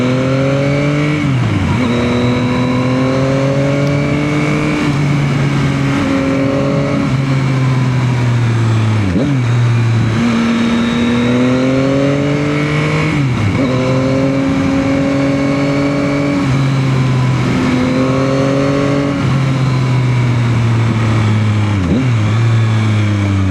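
Yamaha XSR 900 motorcycle engine on winding twisty roads, a loud close engine note that repeatedly climbs in pitch under acceleration then drops sharply with each shift or corner exit, over steady wind rush, no talk.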